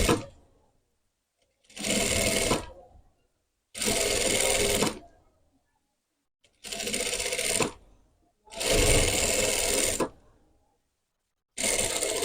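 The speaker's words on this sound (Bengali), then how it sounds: "এই যে আমরা বডিতে চাপ সেলাইটা দিয়ে নিলাম" Sewing machine topstitching the body of a hijab cap, running in steady whirring bursts of one to two seconds separated by short silent pauses.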